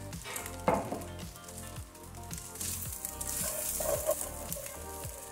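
Leftover rice fries in a little olive oil in a pan, giving a steady close sizzle with occasional stirring scrapes and crackles throughout.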